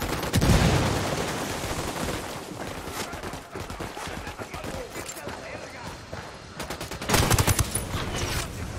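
Gunfire in the game Ghost Recon Wildlands, scattered bursts of shots with a loud cluster near the start and another near the end, mixed with game ambience while voices talk.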